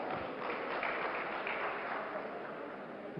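Steady applause from an audience welcoming a poet onto a stage at a Hindi cultural event, a continuous moderate wash of clapping for a few seconds without speech.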